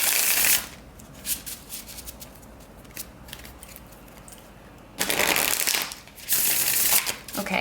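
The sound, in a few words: shuffling a deck of cards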